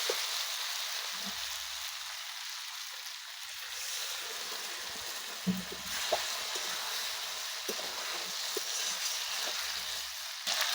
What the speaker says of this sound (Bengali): আর এখন আমি মাংসটা একটু সিদ্ধ হওয়ার জন্য অল্পটুকু জল দেবো।